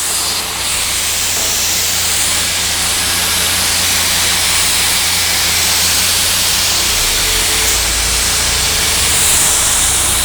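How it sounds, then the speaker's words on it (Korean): A pressure washer sprays high-pressure water onto car glass, a loud, close, continuous hiss that runs steadily for about ten seconds with no talk. "고압수를 뿌려 보겠습니다"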